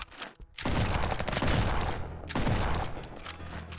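Sustained shotgun fire in the top-down roguelike shooter Flashes of Chaos, a dense burst of close, loud blasts lasting several seconds after a brief lull.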